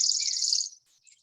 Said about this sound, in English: This is the chipping sparrow. It's very dry trill.